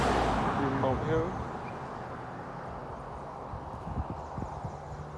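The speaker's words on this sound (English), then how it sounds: "this is the round table stud farm, which have all these horses at it" Horses at the Round Table stud farm in St. George, Barbados, their hoof clops faint and scattered in the background under steady outdoor ambience, with a few sharper hoof knocks near the end.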